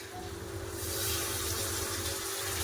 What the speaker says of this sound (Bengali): দই দেয়নি আমি ওই জন্য আমি দুধ দিয়ে দিচ্ছি